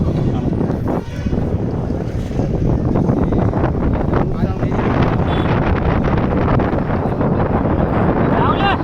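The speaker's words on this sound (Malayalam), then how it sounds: "നല്ല കാറ്റാണ്. വോയിസ് കേൾക്കുമെന്ന് അറിയില്ല. നല്ല കാറ്റ്." Strong beachside wind at Mahabalipuram buffets the microphone in a continuous loud roar, with rumbling gusts throughout.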